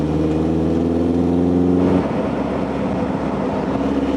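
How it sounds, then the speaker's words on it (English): Exhaust of a Tipo 1, a classic-style car built from a Mazda MX-5, droning steadily with a strong harmonic note that drops off halfway as the throttle lifts, leaving a rougher, lower rumble. "it's just a pleasant exhaust note"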